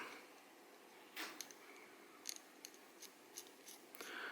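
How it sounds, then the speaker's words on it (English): Fine blade scraping lacquer from a Seiko 6139-6002 Pogue watch dial, heard as faint, quiet crisp scratches and small ticks spaced irregularly, isolated against a low hiss with no talking. "So we're just shaving off right now the clear lacquer and the semi-translucent yellow."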